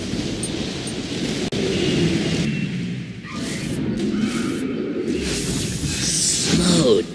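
Storm strike from Kukulkan's ability in Smite, heard in arena mode: a sharp crack followed by rolling thunder and a rain-like hiss that swells and fades over several seconds.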